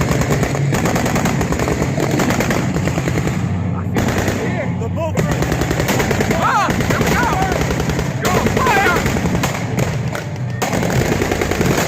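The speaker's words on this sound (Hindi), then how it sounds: "3 बजे करीब गोलीबारी शुरू हुई।" A sound effect of wartime gunfire over night-time Los Angeles, with rapid machine-gun bursts and heavy artillery-like thuds forming a loud, continuous barrage throughout.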